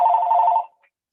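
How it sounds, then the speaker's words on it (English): A single electronic phone ring sounds loud and close, a bright steady tone that stops abruptly after about half a second, followed by silence. "Oh, my phone's ringing here."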